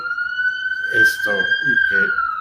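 An ambulance siren wails steadily outside at a single sustained pitch throughout, with someone talking over it in the room.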